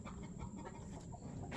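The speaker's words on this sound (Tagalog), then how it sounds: "Uy, pumuputak na manok." A chicken clucks faintly in a brief burst of short low calls on a farm, quiet and close with some background rustle, no talk.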